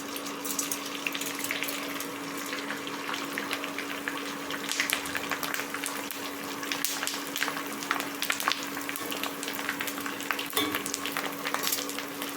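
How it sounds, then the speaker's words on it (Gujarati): Oil sizzles and crackles steadily in a pan as edible gum fries, with bursts of popping and a constant low hum behind it. "આ રીતે આપણે બધા જ ગુંદરને તળી લેવાનું છે"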